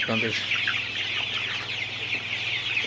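Forty-day-old Sonali super hybrid chickens on a farm cluck in short, repeated calls over a steady background hum, with a louder burst of clucking at the start.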